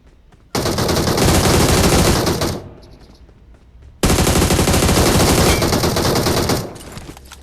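Loud bursts of automatic gunfire in PUBG Mobile, two long sustained volleys of rapid shots, each lasting a few seconds, separated by a brief quieter gap with faint distant game sounds.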